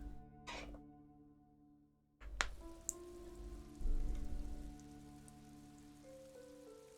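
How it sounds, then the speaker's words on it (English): Rain ambience from the video game Disco Elysium, a soft steady patter of drops with faint tonal game sounds and a few brief clicks, heard quietly and alone. "Still raining."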